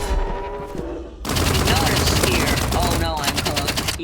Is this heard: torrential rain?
no